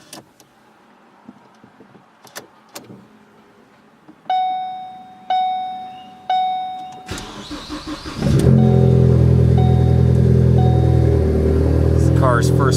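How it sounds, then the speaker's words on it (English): A car with a Stage 1 COBB Accessport tune gets its first cold start of the day in a garage. A few sharp clicks and repeated electronic chimes come first, then the engine cranks and catches into a loud, steady, echoing idle. "It's the car's first start of the day, so it's rather loud in the garage."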